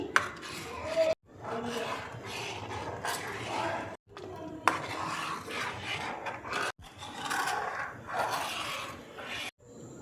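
Powdered milk is stirred into milk in a pan with a rasping, scraping spoon that works in steady bursts, close and fairly loud, broken by a few brief gaps.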